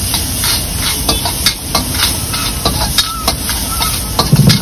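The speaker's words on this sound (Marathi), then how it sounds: "कांदा टाकला, तेल टाकलं, शिमला मिरची टाकली, हे थोडस ते तळून घेतलं." Onion and capsicum frying in oil for veg pulao, a loud continuous sizzle and hiss with scattered clatter of stirring, in a busy food-stall kitchen.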